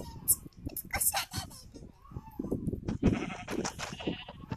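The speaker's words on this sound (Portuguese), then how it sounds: "Ovelha? Ovelha!" Sheep bleating in the Minecraft video game, several short wavering bleats scattered through the clip, mixed with excited voices of players talking over them.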